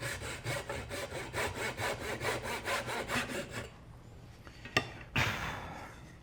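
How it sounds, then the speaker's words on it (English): A small crosscut saw cuts through a piece of wood in steady, rhythmic back-and-forth strokes, loud and close, then stops, followed by a couple of sharp knocks and a brief scrape. "just using a small crosscut saw up against the scrap."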